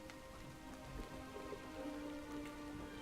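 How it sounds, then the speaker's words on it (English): Steady rain pours down in the video game Stoneshard, a dense, even patter that holds continuously throughout the scene without any pause. "it's raining outside"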